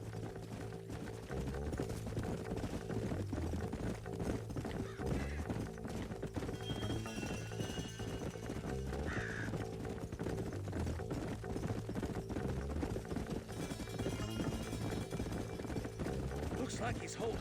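Horses gallop in the Red Dead Redemption 2 video game, rhythmic hoofbeats drumming steadily under a continuous music score, with voices talking over the ride and a horse whinnying briefly.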